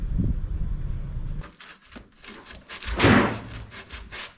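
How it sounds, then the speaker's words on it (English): Snow slides and thumps with a rough rushing scrape and irregular knocks, growing loudest toward the end after a low rumble at the start. "That's just snow falling off the roof."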